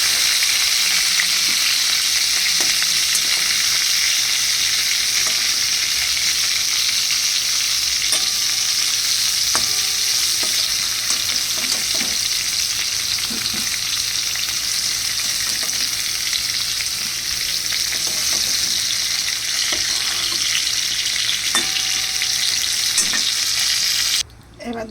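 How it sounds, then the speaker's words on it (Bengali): Pointed gourds (potol) fry in hot oil while being stirred, giving a loud, steady sizzle with scattered scraping clicks that runs almost without a break, then cuts off abruptly near the end. "তোমরা এটা এখন বেশ লাল লাল করে পটলগুলোকে ভেজে নেবে"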